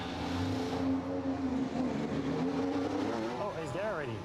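Red Bull RB20 Formula 1 car pulling away on a wet track, a loud sustained engine drone with rising pitch sweeps toward the end, with voices talking over it.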